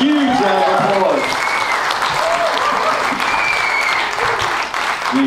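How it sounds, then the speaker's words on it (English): An audience applauds a pianist at a live stage show in a chapel venue, a steady, full round of clapping that carries through at even strength, with some voices mixed in. "Would you give him a huge round of applause?"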